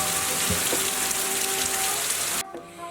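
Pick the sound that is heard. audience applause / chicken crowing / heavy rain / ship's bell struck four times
heavy rain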